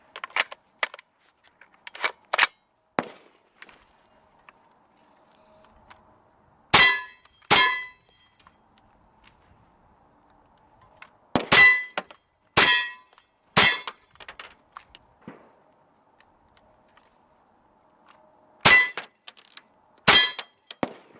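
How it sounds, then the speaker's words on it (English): Bullets fired from a rifle fitted with a High Tower bullpup conversion kit strike steel targets, giving sharp metallic clangs and pings, singly and in quick pairs and triplets, separated by quiet gaps. "Let's put the high tower conversion kit to work and see if it's any good. Alright, let's get some rounds on steel."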